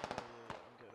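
HE mortar explosions in a military video game, several quick booming bursts close together and then one more, with voices talking over them.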